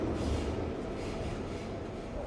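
Subway train rumbling into a station in the video game Persona 5 Royal, a loud, steady low roar of rail noise continuing throughout without speech.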